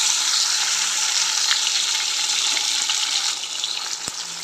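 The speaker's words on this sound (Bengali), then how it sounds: "মাছটা ভাজা হচ্ছে।" Fish rubbed with turmeric and salt sizzles steadily in hot oil in a home kitchen, a loud, continuous close-up crackle that eases slightly near the end.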